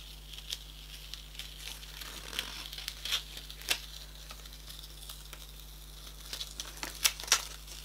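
Masking tape is peeled slowly off paper during a soft pastel drawing, giving soft crinkly tearing with scattered sharp ticks and a louder burst of rips near the end, over a low steady hum.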